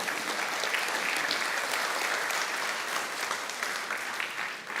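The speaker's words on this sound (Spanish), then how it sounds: "Dale ese fuerte aplauso a Dios" A church congregation breaks into sustained applause, a dense, even wash of many hands clapping throughout with no talk.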